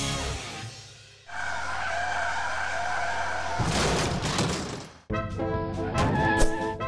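A car skids with understeer on snowy, icy winter roads, with loud, sustained tire and engine noise broken by abrupt cuts and harsh scraping bursts.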